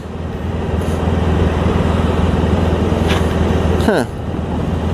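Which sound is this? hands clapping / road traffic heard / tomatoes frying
road traffic heard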